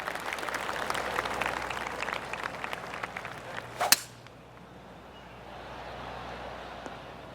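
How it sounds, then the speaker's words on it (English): A polite golf clap from a gallery crowd in the 2K25 golf video game, a dense patter of light handclaps for about four seconds ending in a sharp crack, then fading into quiet ambience. "Oh, golf clap."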